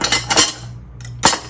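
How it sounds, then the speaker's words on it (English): Ingredients for lemon poppy seed muffins are whisked in a bowl: quick bursts of bright metallic clinking and scraping, close and loud, separated by short quiet gaps. "Whisk."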